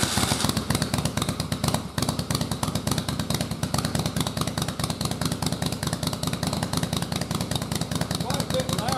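An engine converted to a single carburetor runs loud and close with a fast, rough, pulsing beat throughout, a slight dip early on, and a voice faintly underneath.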